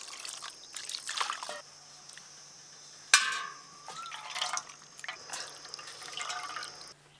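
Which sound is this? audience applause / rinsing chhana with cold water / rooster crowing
rinsing chhana with cold water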